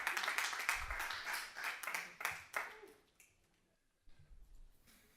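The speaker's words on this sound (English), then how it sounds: "Now clap." Clapping from council members at a city council meeting right after a unanimous vote, a few seconds of scattered close hand claps that thin out and stop, followed by quiet room noise and a faint thump.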